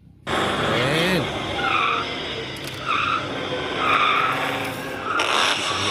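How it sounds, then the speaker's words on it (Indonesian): A green toy race car produces a loud, sustained skidding and tire-squeal effect with a few shifting tones, running for several seconds. "Ini si mobil balap nih teman-teman Warna hijau dia"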